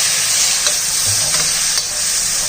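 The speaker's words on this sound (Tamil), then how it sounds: "இதை நல்லா வதக்கிடுவோம்" Tomatoes sautéing in a pan with ginger-garlic paste, a steady loud sizzle with occasional stirring scrapes throughout, no voices.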